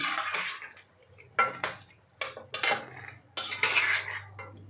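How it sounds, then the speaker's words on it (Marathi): Chicken being stirred with ginger garlic paste in a pot for a chicken korma, giving bursts of wet scraping and metal spoon clatter in uneven strokes, close by, with a faint low hum underneath and no voices. "आता ही मिक्स करून घ्यायची आहे, सगळ्या चिकनला लागली पाहिजे अशा पद्धतीने आपल्याला मिक्स करून घ्यायचं आहे 1-2 मिनिटासाठी"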